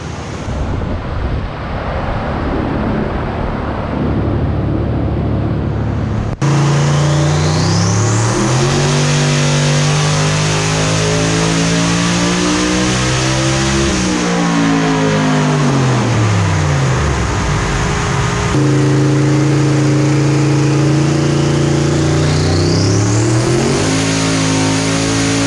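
Gen V LT engine in a Nova makes boosted dyno pulls at Redline Motorsports; a loud, close engine roar climbs steeply in pitch through each run, with a rising turbo whistle, then drops back before the next pull.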